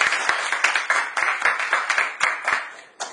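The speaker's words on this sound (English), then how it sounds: "So please clap for yourself that you're in the right place." Seminar audience claps in a loose, rapid rhythm of individual sharp claps over about three seconds, close and fairly loud, thinning toward the end.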